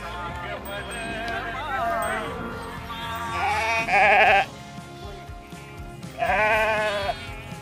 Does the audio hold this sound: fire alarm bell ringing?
no